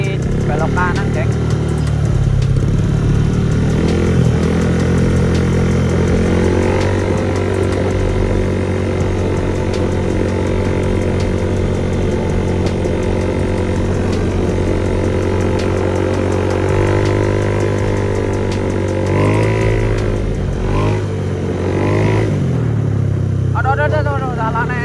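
A motorcycle being ridden drones steadily and loudly throughout, engine pitch shifting slightly as it rolls along, with voices talking over the ride.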